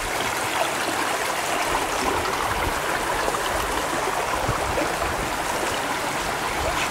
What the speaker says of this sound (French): Et voilà le cours d'eau, comme il coule en ce moment.